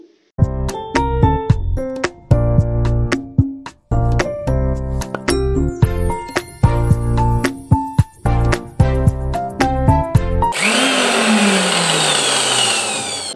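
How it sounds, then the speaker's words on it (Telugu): Mixer grinder blending tomato pickle chutney with chilli powder, fenugreek and mustard powders and garlic: a string of loud, short motor bursts with whining pitch, then a longer rough run as the motor winds down. "మిక్సీ పట్టుకొని మిక్సీ పట్టిన చట్నీని మనం తాలింపేసుకోవాలి"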